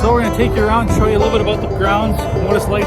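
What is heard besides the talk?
No everyday noises stand out.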